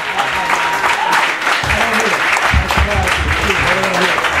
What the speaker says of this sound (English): give a warm round of applause to Mr. Chase Rachels.